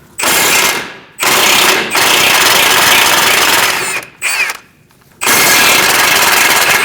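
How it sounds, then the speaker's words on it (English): A loud power tool spins a 17mm socket to remove nuts on a 2002-2006 Toyota Camry steering knuckle, running in long close bursts with a few short breaks and no speech. "we're going to remove these nuts."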